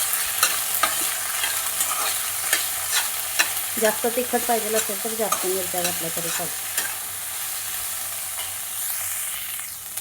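Green peas and chilies roast in a pan with a steady sizzle and repeated clinking stirs while someone talks over the cooking.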